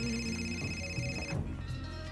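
A telephone rings in the video game Indigo Prophecy, a bright electronic ring with steady tones over low background game music, with no voices.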